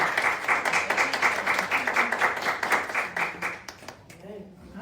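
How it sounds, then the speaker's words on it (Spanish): A church congregation claps steadily in a dense patter during a Spanish-language Sunday morning service, with voices murmuring underneath, fading out toward the end. "Y eso merece un aplauso al Señor por la gloria."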